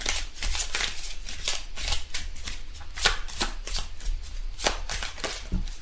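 Tarot cards are shuffled by hand in quick, irregular riffling bursts, close and fairly soft, with no voices over them.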